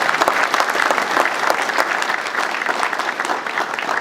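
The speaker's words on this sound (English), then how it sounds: "Round of applause on that." A crowd at a community grant announcement in Lehigh County claps in sustained, dense applause, loud and close, continuing steadily without a break.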